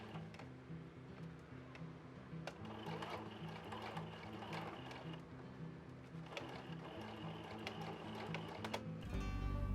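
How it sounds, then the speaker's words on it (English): Sewing machine basting the lining of a flower tote bag, a faint, steady mechanical ticking and whirring stitch rhythm running continuously, with a brief louder rustle near the end. "Then baste it in place."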